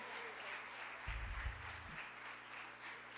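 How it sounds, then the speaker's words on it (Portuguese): A church congregation applauds steadily throughout, a broad wash of clapping with a low hum and brief low thumps in the middle. "Agora você vai aplaudir para Jesus pela vida dele."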